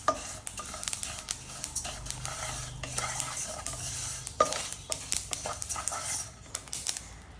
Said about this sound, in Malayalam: വറുക്കുമ്പോൾ ഇങ്ങനെ പൊട്ടണ സൗണ്ട് വരണം.